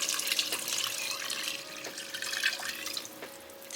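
Water pours steadily into a cooking pot holding chicken for arroz caldo, a continuous broadband splashing and trickling stream that stays fairly close and even, with a few brief louder gushes and no talking.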